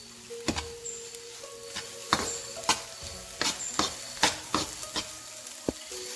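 A spoon stirs a sizzling egg mixture seasoned with turmeric and garam masala in a pan on a stove over medium-high flame, with repeated sharp clinks against the pan over a steady frying hiss.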